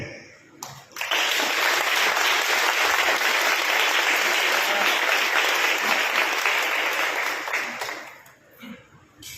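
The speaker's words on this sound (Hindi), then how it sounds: "ताली तो बनती है" Church congregation at Havelock Methodist Church in Agra claps together in a full, even burst of applause that swells quickly, holds for about seven seconds, then fades out.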